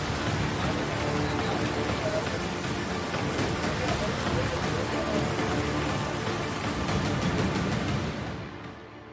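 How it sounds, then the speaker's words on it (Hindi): Heavy rain pours down steadily over sandy dune country in Rajasthan, a dense, loud, unbroken hiss of drops on surfaces that fades slightly at the very end. "रेतीले धोरों में रिकॉर्ड तोड़ बरसात।"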